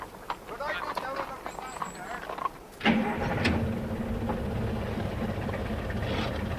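A car engine cranks and catches with a sudden burst, then settles into a steady low running rumble, preceded by clattering background noise and voices.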